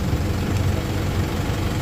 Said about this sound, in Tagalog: Habang naka-start yung makina.